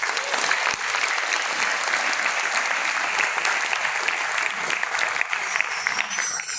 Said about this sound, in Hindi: और जोरदार ताली बजाएंगे।